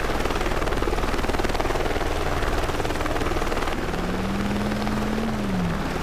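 TV news helicopter in the video game Driver San Francisco, a loud, steady rotor thump that stays close throughout, later joined by a rising then falling electronic tone.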